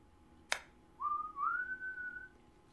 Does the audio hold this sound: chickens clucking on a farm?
no